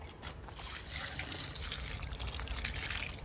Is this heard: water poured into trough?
yes